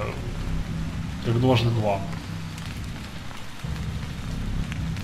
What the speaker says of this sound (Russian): Конечно же, ночь. Конечно же, дождь.